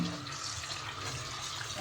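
Cold tap water runs over raw chicken being rinsed in a sink, a steady close splashing stream lasting a couple of seconds with no talk.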